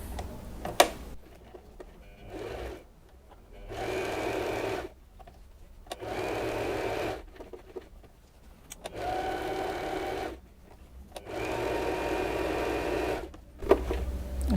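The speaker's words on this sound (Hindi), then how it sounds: "अब मैं इसको सिलना स्टार्ट करती हूँ।" A sewing machine stitches quilted fabric pieces in several bursts of steady whirring, a few seconds each, separated by short pauses, close and clear with no speech.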